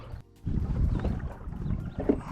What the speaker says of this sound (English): Got the trolling motor going here on the back of the kayak.